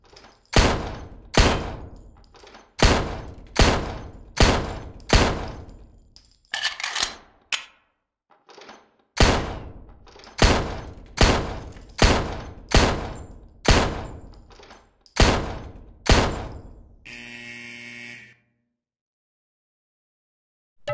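Shots fired at pop-up targets in the World of Shooting video game, a steady series of sharp, loud reports in quick rhythmic bursts with short pauses, ending in a brief mechanical rattle.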